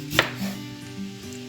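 A knife makes a single sharp chop into cassava, followed by a faint lower scrape as the cut finishes. Close and brief, with no voices.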